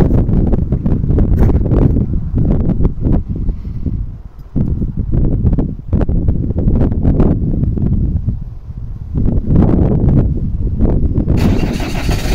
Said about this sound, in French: je sais pas si tu m'as entendu avec tout ce vent là, ça souffle à 70 aujourd'hui